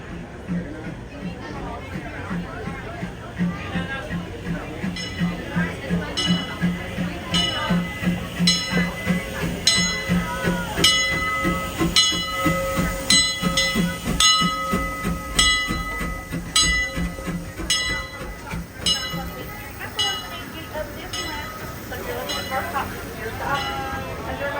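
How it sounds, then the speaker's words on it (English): The Disneyland Railroad train pulls into its station with rhythmic clanking and rolling wheels, while a public-address announcement and crowd chatter run over the mechanical clatter. "The Disneyland Limited now arriving from a trip around Walt Disney's Magic Kingdom."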